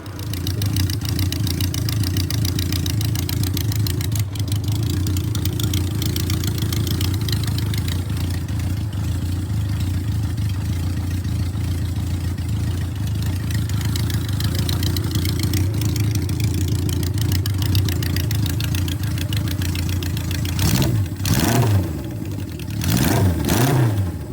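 A 1972 Honda CB500 Four motorcycle engine runs steadily at idle with an even, close mechanical hum, then revs up briefly a few times near the end.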